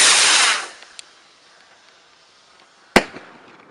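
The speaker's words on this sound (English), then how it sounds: "Okay, we have a rocket." Bonfire Night rocket firework on a beach, with a loud rushing launch whoosh fading out, a faint pop, then a sharp loud bang and a short crackle, outdoors with no voices.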